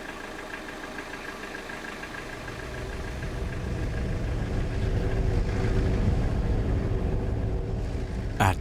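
A vehicle engine rumbles steadily near a herd of gaur in a garden setting, swelling louder after a couple of seconds as it passes close by. No voices are heard.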